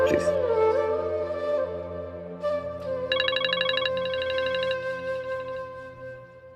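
A phone ringtone trills in a quick repeating electronic pattern over a soft musical background, moderately loud and close.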